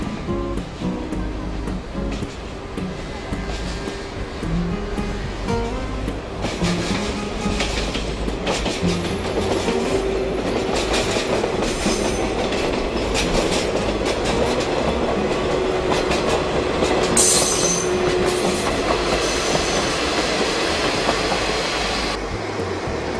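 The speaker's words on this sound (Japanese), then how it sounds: "ノロッコ号が終着駅富良野の構内に入線します。" The Norokko sightseeing train pulls into Furano terminal station in Hokkaido with a loud, steady rumble, rhythmic clatter of wheels over rail joints and a thin high squeal as it slows.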